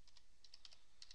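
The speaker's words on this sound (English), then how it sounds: "In this field, type your email address." Quiet, quick keystrokes on a computer keyboard as an email address is entered, about nine light clicks in short irregular bursts, close and faint with no talking.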